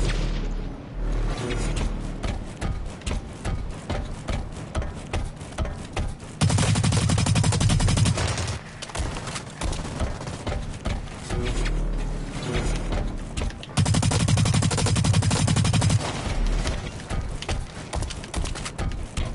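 Rapid automatic gunfire from a gun in a video game, continuous bursts with two louder, denser stretches, heard up close with no talking.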